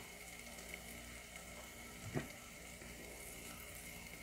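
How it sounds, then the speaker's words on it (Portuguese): Garlic fries in a cast iron pot, a faint, low steady sizzle with a single brief clink of a utensil midway. "Espero esse alho fritar para mim fazer um pouquinho de arroz."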